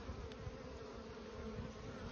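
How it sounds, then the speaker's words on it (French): Honeybees buzzing steadily at the entrance of a hive housing a wild swarm, a dense continuous drone of many insects close by with no talking. "Vous avez remarqué sur les abeilles qui rentrent, sur leurs pattes, regardez"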